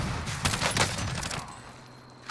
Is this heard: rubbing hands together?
no